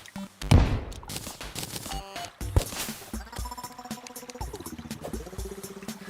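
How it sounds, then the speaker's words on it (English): Explosions in the Terraria video game go off as a burst of sharp, crackling blasts and rattling booms, dense and close, with a rumbling tail, no talking. "But it's explosions, and explosions are fun"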